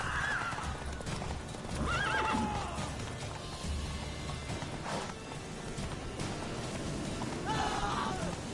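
Roach, the horse in The Witcher 3, gallops with a steady clip-clop of hooves and lets out several whinnies and snorts over the running rhythm of the ride.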